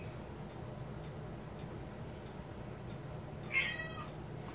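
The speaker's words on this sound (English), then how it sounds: "What you want, kitty cat?" A cat gives a single short meow near the end, fairly close, over a quiet room hum and faint ticking.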